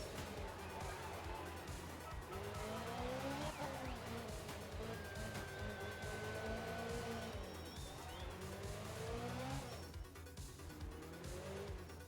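Rally car engine in the art of rally video game revving and droning as the car skids with long tire squeals and spins out, sustained and loud throughout.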